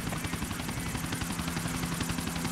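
Steady helicopter rotor chop with a low engine drone, continuous and fairly close, no voices, from a gold helicopter in the video game GTA IV: The Ballad of Gay Tony.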